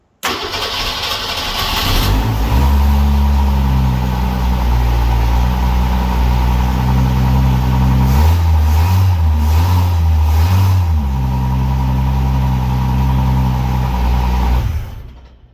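A 1965 Ford Mustang's 200 straight-six engine cranks and catches, then settles into a loud, steady idle with a brief rise in revs midway before cutting off.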